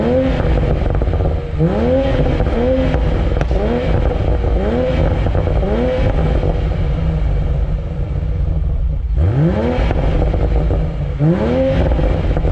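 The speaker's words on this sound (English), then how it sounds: "the engine sounds really good" A 2019 BMW Z4 M40i on track, its engine loud and close, repeatedly revving up through rising gear pulls with short drops between shifts, the pattern resuming after a brief pause.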